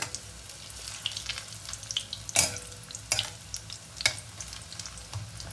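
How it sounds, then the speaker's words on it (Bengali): Rohu fish roe pakoras frying in hot oil, a steady close crackling sizzle with sharper pops and spits every second or so, no voices over it. "তো এই সাইডটাও খুব ভালো করে ভেজে নেবো।"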